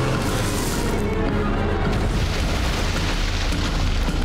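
A car plunges into a river in a film scene, a loud sustained roar of crashing water and impact noise filling the whole moment with no voices over it.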